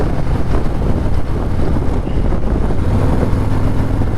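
A 2024 Harley-Davidson Low Rider S (FXLRS) with its 117 engine rumbles low and steady while riding, largely buried under loud, constant wind buffeting across the microphone.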